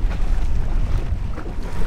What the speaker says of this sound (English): she's a little bit windy